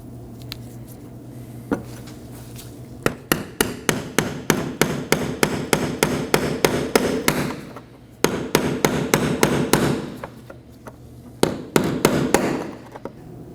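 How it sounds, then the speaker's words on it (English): Hammer blows drive a chisel to seat the fuel pump lock ring on a 2018-2024 Chevrolet Equinox 1.5L L4, in three quick runs of sharp metallic strikes with short pauses between them, close and loud. "grab your chisel and strike it until it fully seats"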